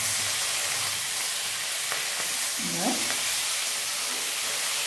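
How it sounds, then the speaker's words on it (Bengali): A pan of mourala freshwater fish curry with potato and green tomato hisses with a steady, loud sizzle as it is briefly stirred, with a faint scrape of the utensil partway through. "অল্প একটু নাড়িয়ে নিয়েছি"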